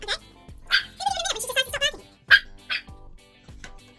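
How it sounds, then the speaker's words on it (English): A dog barks and yips several times at close range in a home, sharp bursts mixed with whimpering notes, with speech around the barks. "Yeah, you barked at him good."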